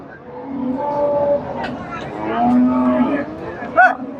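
Friesian bulls at a cattle market moo loudly and repeatedly over a steady hubbub of people talking and trading nearby.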